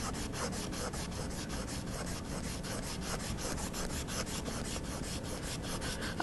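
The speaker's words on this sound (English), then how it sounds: "This is a gum eraser, which will allow me to push a little harder into the charcoal and remove a bit more of it." A gum eraser rubs charcoal on paper in quick, regular back-and-forth strokes, close up and quiet, with no talking over the steady scrubbing rhythm.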